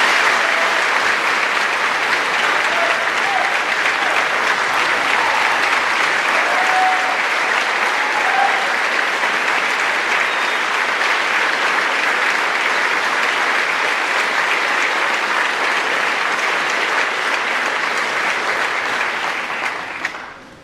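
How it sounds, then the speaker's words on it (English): Sustained applause from a school awards night audience honoring a high school graduating class, a full, steady roar of clapping that continues for about twenty seconds before tapering off at the end. "please join me in another round of applause for the Festus High School class of 2022"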